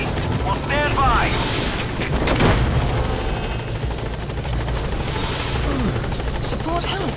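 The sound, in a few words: support helicopter arriving, from the video game Metal Gear Solid V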